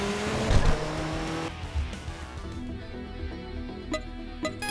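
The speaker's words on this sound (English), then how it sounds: "why are cars doing that squealing sound?" Tire squeal and engine drone from cars in the Tokyo Xtreme Racer game, a loud burst early on fading into a sustained motor hum with scattered sharp clicks and squeaks, no voices.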